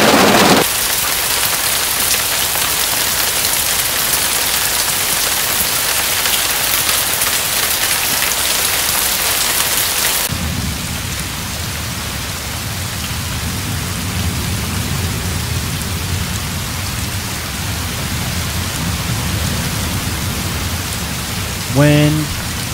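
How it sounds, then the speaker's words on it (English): Heavy rain from the Payday 2 game soundtrack pours as a dense, loud hiss, then shifts to a lower, rumbling downpour partway through, ending with a brief sharp sound. "Lots of rain."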